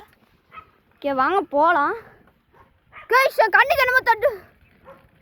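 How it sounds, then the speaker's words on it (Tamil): A German Shepherd barks and yelps close by in two bursts of excited, wavering barks, with people talking over and around it. "ஜெர்மன் ஷெப்பர்ட் தானே?"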